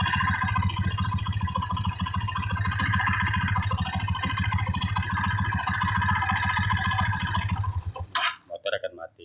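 A Honda Mega Pro motorcycle with an ignition fault idles with a steady mid-pitched engine drone, then cuts off abruptly near the end, leaving a few faint clicks and near silence.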